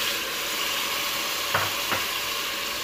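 Shallots, garlic and ginger sizzle steadily in a hot pan, a constant close frying hiss, with a couple of soft thuds and clatters as tomato is added and stirred in.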